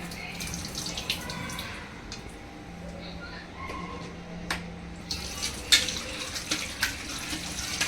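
Water runs steadily from a tap with splashing and clinking as prawns are rinsed, while a few indistinct voices murmur in the background.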